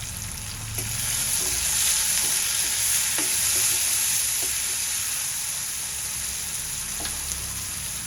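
Onion with turmeric and salt being sautéed in a pan for radish bhaji, a bright constant sizzle with occasional spatula scrapes and taps, close and unaccompanied by speech.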